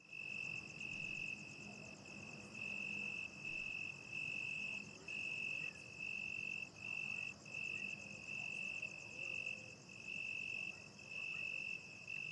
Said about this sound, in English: What are these sounds? It's frogs, right?